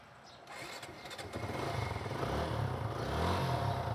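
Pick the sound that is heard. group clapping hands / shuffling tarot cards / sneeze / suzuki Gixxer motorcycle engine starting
suzuki Gixxer motorcycle engine starting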